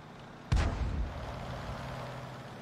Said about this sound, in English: now we've got the Panzer 4H firing on the RAM